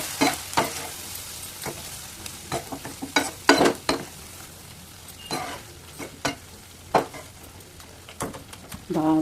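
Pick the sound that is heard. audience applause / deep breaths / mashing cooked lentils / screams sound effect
mashing cooked lentils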